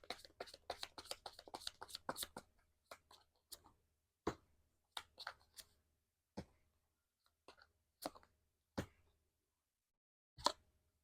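Tarot cards being shuffled and handled, a dense burst of quick papery flicks and slaps at first, then thinning into scattered single taps and card snaps with long quiet gaps, close and fairly soft.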